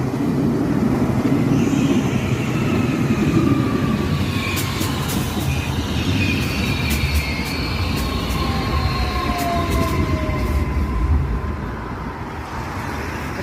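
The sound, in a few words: train to Milan, Italy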